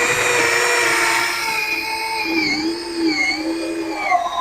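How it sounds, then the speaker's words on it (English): A power drill whines steadily as it bores through a wooden 2x10 board, its pitch dipping and rising under load, loud and close. "we're just going to drill all the way through this 2x10 board."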